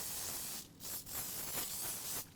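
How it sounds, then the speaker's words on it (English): Cooking spray hissing from a can into a cake pan, with several bursts of steady spray separated by short gaps, close and clear, with no talking. "then I'll spray the bottom and the sides to prevent sticking"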